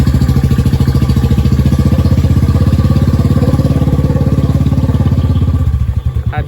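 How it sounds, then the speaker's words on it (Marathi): A Bullet motorcycle engine runs steadily and loudly up close, its thumping idle-like rhythm continuous for most of the stretch before easing near the end. "आणि आता मी घेऊन चालले ती बुलेट."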